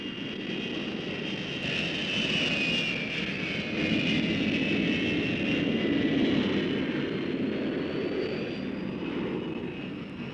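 Hawker Hunter jet fighters fly back to base, and a loud, continuous jet engine roar sustains throughout. It swells slightly as the aircraft pass and carries a steady whine above the rumble.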